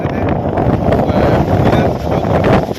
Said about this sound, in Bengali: কিন্তু এত হাওয়া যে গাড়ি দিয়ে একটু এগোনো যাচ্ছে না